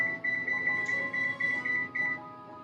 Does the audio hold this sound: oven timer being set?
yes